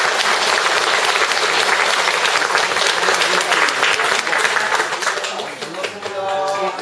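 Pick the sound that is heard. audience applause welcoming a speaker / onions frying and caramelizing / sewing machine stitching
audience applause welcoming a speaker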